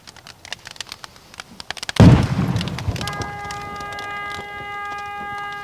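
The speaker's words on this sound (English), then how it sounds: "hitting those propane tanks. The gas tank's in there too. That could go off at any minute" Propane tanks in a fire burst with a sudden loud boom, preceded by sharp crackling pops, then a rumbling roar and a lingering ringing tone as the blast decays.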